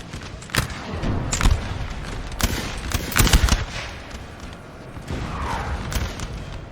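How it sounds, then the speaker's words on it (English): Musket volleys crack out in a Napoleon: Total War battle, several sharp bursts of gunfire scattered over a dense rumbling battlefield din, with the loudest cluster landing mid-way through. "Oh, the beautiful volleys."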